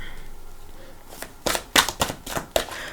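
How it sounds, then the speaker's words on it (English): Tarot cards shuffled by hand, a few crisp riffling bursts and slaps in close succession after a quiet start, close and moderately loud with no talking. "Normally in the larger decks I just take off the top, but I feel like shuffling today."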